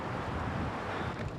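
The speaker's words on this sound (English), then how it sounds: "It is windy." Strong wind buffets the microphone in a steady, loud roar with no voices, a continuous rushing blast throughout.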